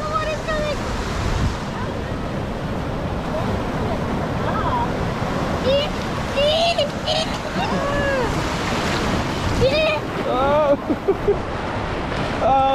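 Surf rushes and washes in with steady wind noise, while chirpy excited voices and squeals break in over the water.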